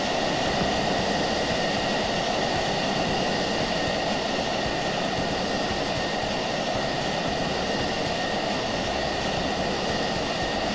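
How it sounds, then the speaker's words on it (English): A fighter jet engine in the Falcon BMS flight simulator game winds down with a continuous broadband roar and whine, steady and fairly loud throughout, with no voices over it. "I'm gonna turn my jet off so I'll be off IBC."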